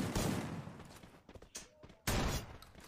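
Loud gunfire bursts in the mobile battle royale Free Fire MAX, a heavy volley opening the moment, scattered sharper cracks in the middle, then another sudden loud burst, with no one talking.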